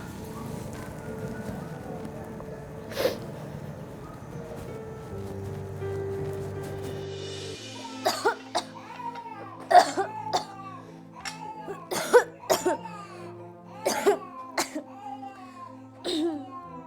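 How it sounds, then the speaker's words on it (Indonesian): A person coughs repeatedly in short, sharp bursts, several separate coughs spaced a second or two apart, close and fairly loud. "cuma batuk biasa"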